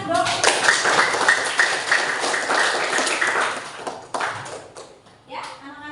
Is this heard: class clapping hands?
yes